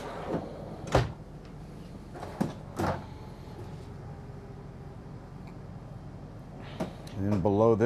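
Soft-close kitchen drawers on full-extension glides in a Newmar Ventana 4037 motorhome shut with a few muffled thuds, followed by quieter sliding and a rising whir near the end as someone talks throughout.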